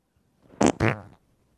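A person imitates a wet fart with their mouth: two loud, close, sputtering bursts lasting about half a second together, alone with no talk over them.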